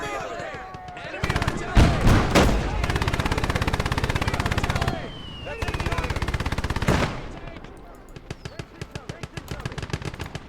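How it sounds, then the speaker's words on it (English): Heavy battlefield gunfire and artillery roar in dense machine-gun bursts with booming impacts, two long sustained volleys broken by a brief lull, then sharper scattered rapid shots, loud and close throughout. "There's artillery over there! Enemy artillery! Take cover!"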